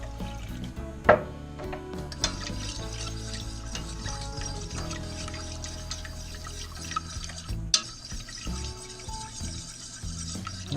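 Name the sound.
milk being poured into cheese sauce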